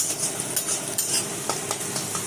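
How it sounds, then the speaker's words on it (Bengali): Onion frying for chicken korma, browned like beresta, with a continuous bright sizzle and repeated spoon strokes against the pan, close and fairly loud, no voices. "চিকেন কোরমার প্রথমে পেঁয়াজটাকে এই যে ভেজে নিচ্ছি।"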